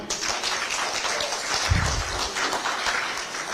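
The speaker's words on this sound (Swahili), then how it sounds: "tupige makofi." A crowd at a Kenyan COTU trade-union leadership meeting with Raila and Atwoli breaks into applause, a dense, even patter of many hands clapping that holds for several seconds at moderate volume.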